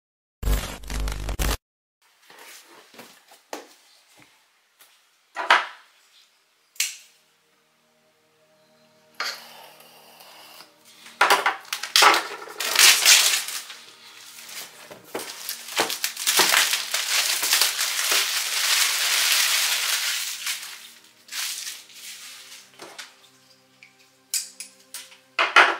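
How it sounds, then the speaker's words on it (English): A Microsoft Surface Studio laptop being unboxed, with cardboard and plastic packaging handled in bursts of crinkling, scraping and tearing, close and fairly loud, building to a long dense stretch of rustling before trailing off. "we're going to unbox this"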